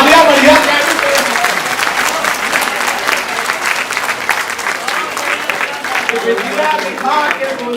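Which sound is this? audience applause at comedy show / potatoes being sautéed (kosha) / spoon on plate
audience applause at comedy show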